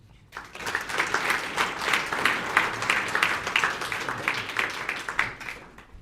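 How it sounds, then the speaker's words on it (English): Sustained audience applause at a business index book launch event in Mauritius, a dense even wash of many hands clapping that swells in after a brief pause and holds steady before tapering. "another round of applause"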